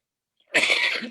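A single loud, close sneeze bursts out suddenly after a brief silence and trails off within about half a second, standing alone without talk over it.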